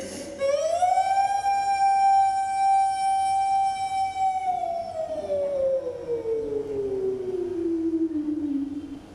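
A person imitates a siren with a long wail that rises, holds a steady high note, then slowly slides down in pitch.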